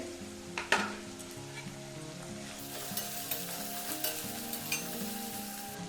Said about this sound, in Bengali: এবার আমি এখানে পেঁয়াজ দিয়ে দিচ্ছি